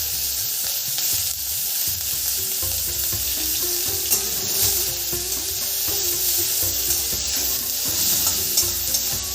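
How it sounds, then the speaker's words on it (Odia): Onions frying with cumin seeds in a pan: a steady, loud sizzle and crackle that runs throughout, with stirring scrapes and soft clatter, and no talk. "ଦେଖନ୍ତୁ ଏଠି ପିଆଜ ଭାଜି ହେଇଗଲାଣି"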